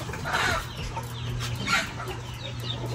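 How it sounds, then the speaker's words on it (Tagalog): A hen and rooster cluck repeatedly over a steady low hum, with a couple of louder squawking bursts rising above the farmyard chatter. "The children is not arguing but the hen and the rooster."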